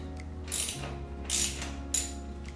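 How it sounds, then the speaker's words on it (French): A 12 mm socket ratchet unscrews the axle bolt on a Yamaha FJR 1300 motorcycle. Three short bursts of close, loud clicking come over a low steady hum, with no talking. "avec une douille 12 mm, on dévisse la vis ici qui se trouve à serrer l'essieu pour l'empêcher de"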